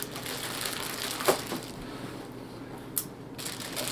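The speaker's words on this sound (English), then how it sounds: "I'm going to go ahead and unwrap at least one of these so you guys can see it pretty good." Packaging crinkles and rustles as a Logitech Z2300 satellite speaker is unwrapped close by, with faint continuous plastic handling and two brief sharper crackles.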